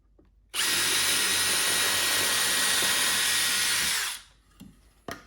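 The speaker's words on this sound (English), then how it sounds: "Drilling a through hole for both of them." A power drill bores a through hole in a wood carving in one steady, loud whine lasting several seconds, then winds down, followed by a few light knocks.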